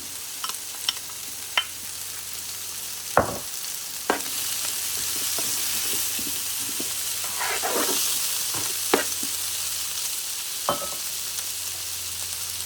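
Bacon lardons stirred in an electric slow cooker give a steady sizzling hiss, broken by a few sharp scrapes and clicks of a utensil against the pot.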